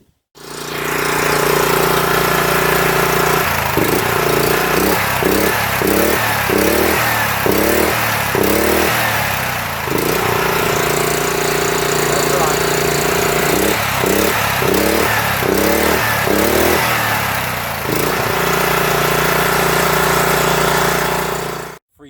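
Small engine on a Baja Warrior mini bike, a free 270 motor started on gas and ether, idling loud and steady up close, then revving in two rhythmic bursts of repeated throttle blips before settling back to idle.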